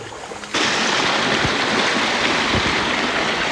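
Fast-flowing river water during the Konkan monsoon at night rushes in a loud, steady roar that starts abruptly after a quiet moment and holds unbroken, with no voices.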